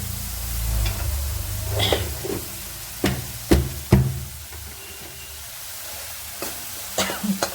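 Masala spices frying and being stirred in a pan for mixed dal, a steady close sizzle broken by several sharp spoon knocks against the pan, with no talking.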